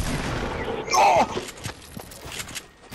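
A shotgun fires in a video game with a loud close blast, followed by scattered smaller shots and impacts, and a voice briefly exclaims around it.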